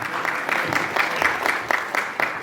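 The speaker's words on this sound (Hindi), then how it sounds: "परमपिता परमेश्वर के लिए बहुत जोरदार तालियां" An indoor audience at a Christian music album release claps steadily, with dense applause rising and falling in a regular pulse throughout.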